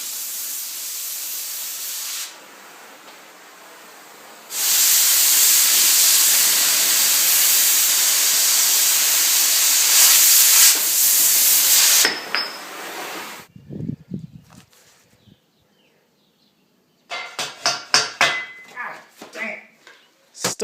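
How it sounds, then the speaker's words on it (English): An oxy-fuel cutting torch slices through 3/4 inch steel plate with a loud, sustained roaring hiss that rises and holds for several seconds. It then cuts off, leaving scattered clanks and rustling handling noises. "Therefore, cranking out the old torch."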